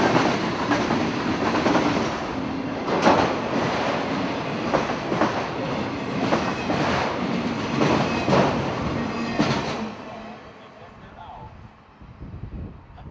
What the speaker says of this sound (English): Q689 is a mixed freight for Waycross. You can see it every day on the Fitzgerald Sub.